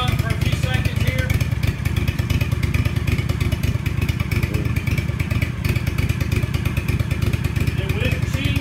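Engine of an Aztec Harley Davidson version floor machine warming up, a loud, steady rumbling idle with rapid mechanical chatter that continues without break throughout.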